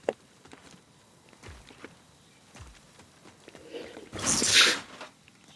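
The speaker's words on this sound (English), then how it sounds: "Oh man, the sneezing." A character sneezes in the video game Borderlands 4, one loud burst near the end that follows faint footstep-like taps, with a quiet game backdrop and no talk.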